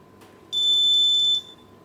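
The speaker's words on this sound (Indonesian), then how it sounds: "Bila penghalang berada di jarak kurang dari 10 cm, maka buzzer akan berbunyi." A piezo buzzer on an Arduino board, triggered by an HC-SR04 ultrasonic sensor when an obstacle comes closer than 10 cm, gives one steady, loud, high-pitched electronic beep lasting just under a second. A faint hum sits in the background.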